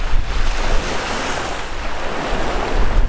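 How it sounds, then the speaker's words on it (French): Strong wind roars against the microphone over crashing waves on open sea off Senegal, a loud, steady rush with gusts swelling at the start and end; no one speaks. "on fait une petite pause parce que il y a énormément de vent, vraiment beaucoup"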